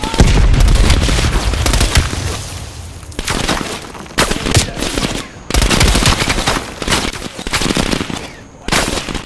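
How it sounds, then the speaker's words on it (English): Heavy automatic gunfire in Call of Duty Black Ops Cold War comes in loud, sustained bursts separated by short pauses, with some booms mixed in. "Everybody's now shooting at me."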